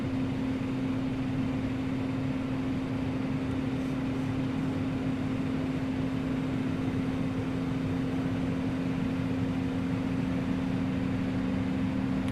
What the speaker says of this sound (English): And here comes up engine number 1.